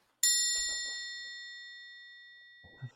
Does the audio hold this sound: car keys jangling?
no